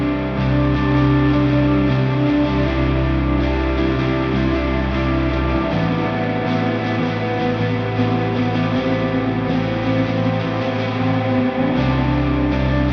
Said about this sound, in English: And altogether, our finished melody sounds like this.